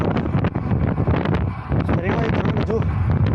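Strong headwind buffeting the microphone while cycling toward a mountain climb, a continuous loud roaring rush with gusty fluctuations throughout.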